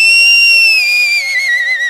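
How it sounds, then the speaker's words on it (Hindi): One loud, sustained whistle close by, a clear high tone that slowly bends downward over about two seconds. "ये सीटियां क्यों मार रहे हैं?"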